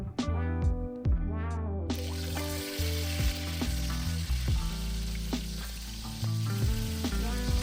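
Short ribs browning in hot oil sizzle loudly and continuously, with a few clinks and pan knocks early on before the crackling frying noise fills everything.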